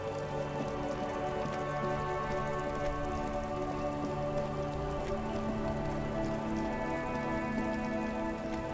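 Steady rain pours in Disco Elysium, a continuous even patter and hiss with a soft tonal background hum beneath, unbroken and moderately loud throughout.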